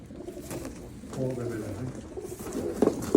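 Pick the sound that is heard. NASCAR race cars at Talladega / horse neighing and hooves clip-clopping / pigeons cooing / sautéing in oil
pigeons cooing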